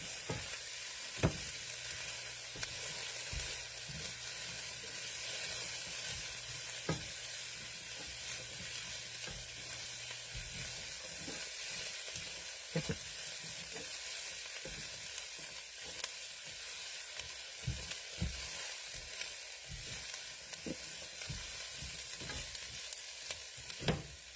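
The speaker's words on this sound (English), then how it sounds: "Let those onions cook up a little bit as well." Onions with garlic and ginger sizzle softly in a pan for spiced aloo potatoes, a quiet steady hiss broken by occasional sharp spoon clicks against the pan.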